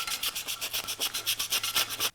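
Sandpaper wrapped around a screwdriver rubs the inside of a wooden-handled carving V-tool, making about a dozen quick, evenly spaced rasping strokes up close, with no voices.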